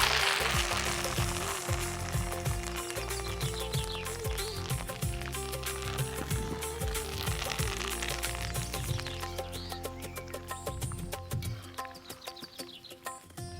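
Tempering spices, garlic cloves, dried red chillies and curry leaves crackle and sizzle in hot oil for drumstick pickle, with dense popping and spitting throughout, slowly thinning out toward the end.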